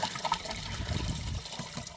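Liquid solution pours into a garden sprayer already partly filled with water, a close, gurgling splash that runs continuously for a couple of seconds, no talking.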